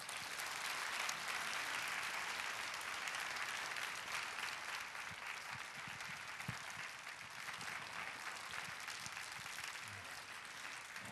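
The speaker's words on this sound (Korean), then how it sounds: "우리 윤정표 목사님 나오실 때 힘차게 박수해 주시기 바라겠습니다" Congregation applauding during a Sunday evening church worship service, a dense, steady wash of clapping that carries on evenly for the whole stretch with no talk over it.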